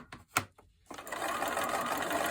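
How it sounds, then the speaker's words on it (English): A sewing machine stitches a straight seam across a quilt block, starting with a few short taps and then running in a steady, close, continuous whir. "I'm just going to sew straight down this dark line here."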